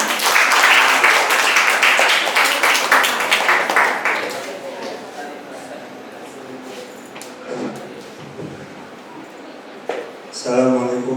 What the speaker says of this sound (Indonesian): beri tepuk tangan untuk Bang Umang.